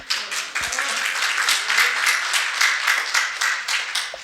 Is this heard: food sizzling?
no